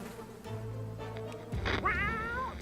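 Sharikov, a cat in the game 60 Seconds, lets out a drawn, wavering meow close up after a low hum and a soft thump, with no talk over it.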